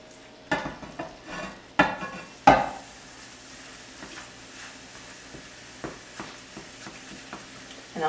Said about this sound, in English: While the turkey's browning in the pan